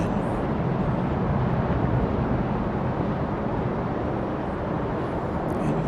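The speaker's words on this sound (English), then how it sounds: "A 7879 Dreamliner coming in." A Boeing 787-9 Dreamliner airliner comes in to land at DFW Airport at dawn, a steady, loud broadband jet roar that holds evenly throughout with no voices.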